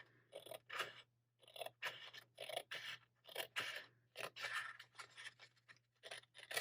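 Scissors snip through paper planner pages in a quiet room, a steady run of close, crisp cutting strokes with short pauses between them.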